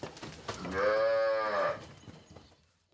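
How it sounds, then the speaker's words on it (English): Cattle moo once, a single long, loud low call during a roundup of a herd being driven back to a farm, with faint background noise before and after. "They have 200 cattle to round up and drive back to the farm."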